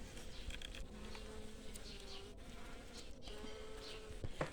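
Honeybees swarm around a hive during a quiet queen replacement, a close, continuous buzzing drone with individual bees whining past at shifting pitches, alone without talk.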